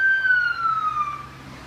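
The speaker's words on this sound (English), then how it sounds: "Although I hear sirens." Emergency vehicle siren heard from a porch on a nice day, a single wailing tone gliding downward over under two seconds, moderately distant and alone.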